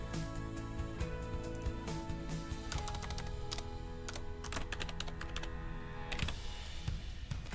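Close, rapid typing on a computer keyboard, keys clicking in quick irregular bursts with brief pauses, continuous throughout with no talk.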